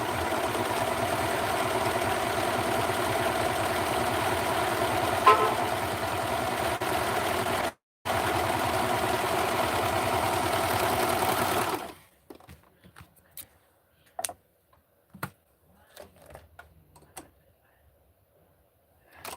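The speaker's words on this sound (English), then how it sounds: "I'm going to be using the serger." A serger sews a ruffled Barbie doll dress with a steady, close mechanical whir that runs for about twelve seconds with one brief pause. After it stops, scattered quiet handling clicks and rustles follow.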